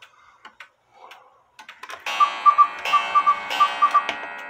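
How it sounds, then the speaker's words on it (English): A clock ticks quietly, then a bright mechanical quail call repeats in paired notes over a steady whirring chime, fairly loud and close; a 1908 cuckoo quail clock with count wheel. "This is a cuckoo quail clock."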